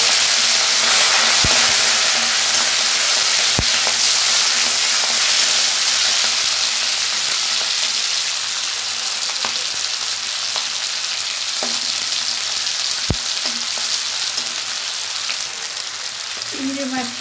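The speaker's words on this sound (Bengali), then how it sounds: "চিংড়ি মাছটা ভাজা হয়ে গেছে" Prawns fry in mustard oil in a wok, a steady broadband sizzle throughout with a few sharp spits and pops, close and fairly loud, fading slightly toward the end.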